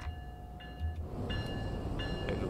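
An ALP46 electric locomotive in Train Sim World 4 on the Northeast Corridor between New York and Trenton hums as it starts to move, with a low rumble and repeated short high tonal chimes or whines over the engine.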